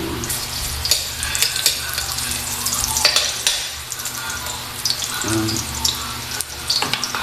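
Garlic sizzles in a pan of oil after ginger, with steady frying crackle, stirring scrapes and a brief metallic clink, fairly close and continuous without speech.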